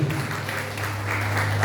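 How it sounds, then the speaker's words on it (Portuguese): A church congregation at a Pentecostal service claps together in a dense, steady burst of applause that fills the room, with a low hum beneath and faint voices mixed in. "Dá uma salva de palmas para Jesus."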